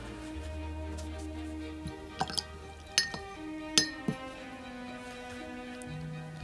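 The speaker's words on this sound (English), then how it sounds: "Rinse the brush out a couple times as we go." A paintbrush clinks and taps against a glass water jar while being rinsed, a few sharp close knocks and rattles over a quiet background.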